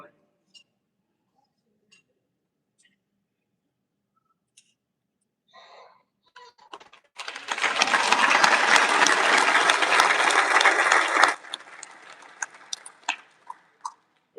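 Audience at the Best Ranger Competition awards dinner bursting into loud applause that swells and holds for about four seconds before tapering into scattered claps, preceded by faint ticks and quiet murmurs.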